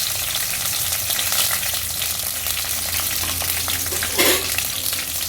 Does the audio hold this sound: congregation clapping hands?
no